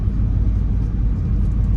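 A car rolls along a residential street in the Buena Vista Heights neighborhood of Nashville, Tennessee, with a steady low engine and road rumble heard from inside the vehicle, fairly loud and continuous with no talk.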